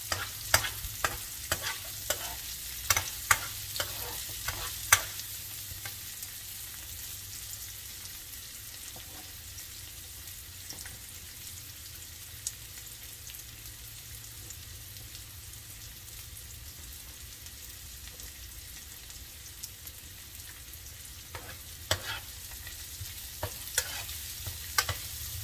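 Garlic frying in a pan while being stirred: a steady soft sizzle runs throughout, broken by sharp scraping and clinking stirs clustered at the start and end, close and moderately loud.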